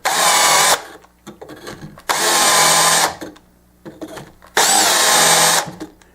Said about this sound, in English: We're working on the holes for the tuning. Got this little reamer.